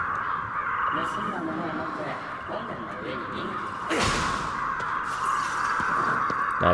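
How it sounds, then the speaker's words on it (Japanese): A crow caws in the video game Ghostwire: Tokyo, with harsh calls over an ambient game soundscape and a louder burst midway; someone speaks at times. "カラスか。"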